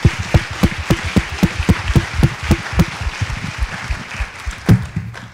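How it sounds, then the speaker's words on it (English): Audience applause at a research day panel discussion, a full room clapping steadily with dense overlapping claps, fading out after about five seconds. "a big round of applause"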